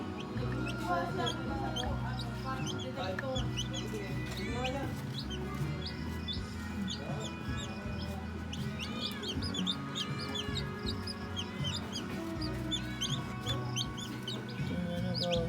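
A hen and her chicks cluck and peep close by, with dense high cheeping over softer clucking throughout and a person talking quietly in the background.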